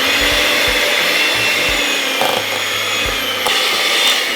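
A kitchen machine mixes whipped garlic butter with a loud, continuous motor whir and some low knocking, heard close up.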